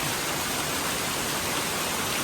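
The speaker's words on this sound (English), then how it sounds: "There's two waterfalls, one on this side and one on that side." A wilderness waterfall pouring into a swimming hole, heard as a steady, dense rushing hiss close by with no breaks and no voices.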